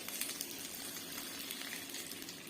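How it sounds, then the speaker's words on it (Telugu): Capsicum fries in oil in a pan over a medium flame, a soft, steady sizzle and crackle that stays faint and even throughout, with no voices. "కొంచెం మీడియం ఫ్లేమ్లో పెట్టుకొని మంటను తిప్పుకుంటూ నిదానంగా కాల్చుకోవాలి."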